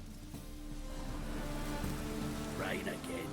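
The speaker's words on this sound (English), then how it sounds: "Rain again" Steady rain falls on surfaces in a video game, a faint continuous patter with a low hum underneath and a brief voice-like sound near the end.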